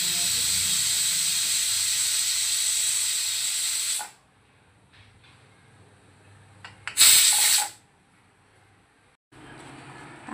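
A pressure cooker cooking mutton biryani lets off a loud, sustained steam hiss for about four seconds, then falls quiet before a brief second burst of venting.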